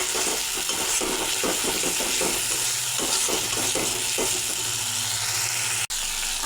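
Masala paste for a tengra fish curry sizzling in oil while a spoon stirs and scrapes through it, a steady hiss broken by repeated rhythmic scraping strokes, close and continuous.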